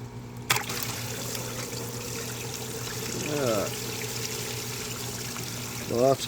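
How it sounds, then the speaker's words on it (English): Coolant drains from the 3.7-liter engine of a 2013 Lincoln MKS during a water pump and radiator job, a continuous trickling pour with a couple of short gurgles, heard close up in a garage. "Lots of coolant in there."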